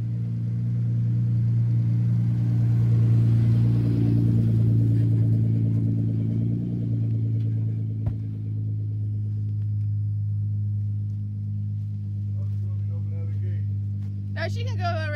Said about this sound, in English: Kendall taking her Uncle John's race car